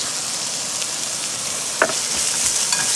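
Carrots stir-fry in a pan with garlic powder, garlic puree, spicy chili crisps and salt, giving a loud, continuous sizzle with a couple of sharp utensil clicks as they are tossed.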